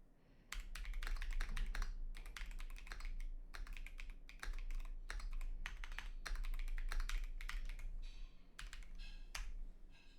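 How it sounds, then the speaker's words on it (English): Typing on a computer keyboard, a close stream of rapid, irregular key clicks and taps in quick bursts over a low hum. "I don't really like how this keyboard sounds, not gonna lie."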